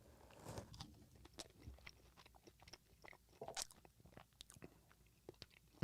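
Someone bites and chews crinkle-cut fries close up, giving irregular soft crunches and wet chewing sounds at a low level.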